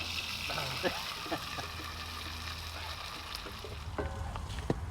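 Bacon and onion fry over a campfire with a steady broadband sizzle and crackle that runs throughout, punctuated by a few soft pops and stirring clicks, with faint voices in the background.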